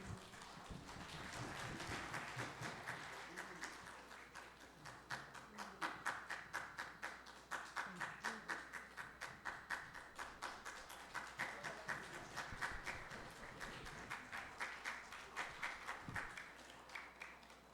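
Church audience applauding children in a Sunday evening service, a steady dense patter of many hands clapping in a hall that runs continuously for about seventeen seconds with rhythmic peaks.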